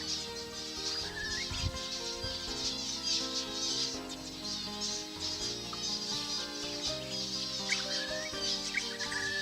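A flock of zebra finches, many of them young, perched in a tree above water in southwest Queensland, giving a dense continuous chorus of high chirps and calls with wingbeats mixed in.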